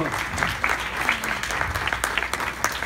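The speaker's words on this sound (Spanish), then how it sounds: "Un aplauso para Nico" An audience at an animation industry event in Spain gives brief, moderately loud applause that claps steadily for a few seconds as a speaker is welcomed to the stage.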